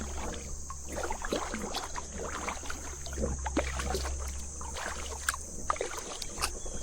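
A kayak paddles through shallow river water on a trip from Tidioute to Tionesta, with soft repeated paddle strokes, splashes and light drips close by over a low steady background.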